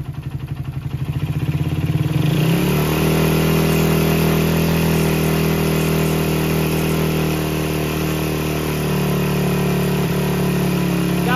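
Carbureted motorcycle engine idling steadily up close while its air screw is adjusted, the idle starting rough and pulsing and then settling into an even, continuous hum with no talking.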